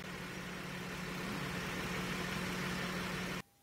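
A Toyota Lexus car engine idles during a sealed transmission fluid change, with a steady low hum and faint vibration up close that cuts off abruptly near the end as the engine is shut down.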